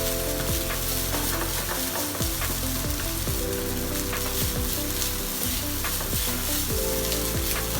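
Breakfast food sizzles and fries in a flat frying pan over high heat. The crackle is loud and constant throughout, with steady hissing and popping and no voices.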